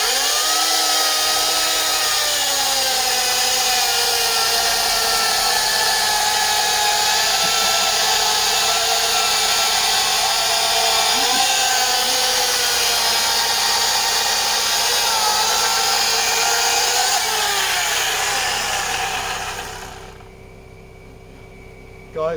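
Vintage 1960 alternative saw cutting through wood, a loud, steady high-pitched engine whine with a buzzing cut that runs without a break and then drops away sharply near the end.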